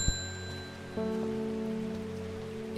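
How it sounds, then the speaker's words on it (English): Steady rainfall in the video game Strange Horticulture, a continuous even patter that holds throughout under faint sustained musical tones, with no voices. "Does it ever stop raining in Undermere?"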